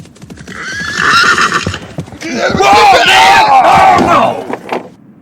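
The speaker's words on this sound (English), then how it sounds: "As the Daltons were leaving town, their horses jumped over a fence and the men fell to the ground" Horses in a Wild West town neigh loudly and whinny over rapid galloping hoofbeats. Two long bursts are separated by a short pause, with thuds and clatter near the end.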